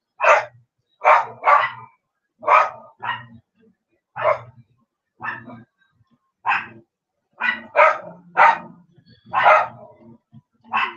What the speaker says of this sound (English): And Tanner, that's him back barking.